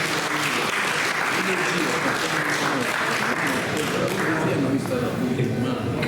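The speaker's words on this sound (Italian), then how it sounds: "Un applauso a tutti." Audience applause at an open-air poetry competition in Sardinia, steady dense clapping through the whole stretch with voices and crowd noise mixed underneath.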